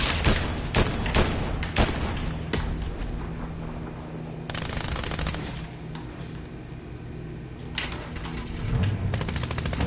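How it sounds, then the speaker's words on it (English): Rapid bursts of gunfire in a Fortnite match crack and rattle in quick volleys, with sharp single shots mixed among sustained automatic fire, fairly loud with no talk over it. "I see the bullets are flying."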